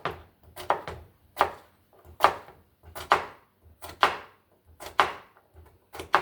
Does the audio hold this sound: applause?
no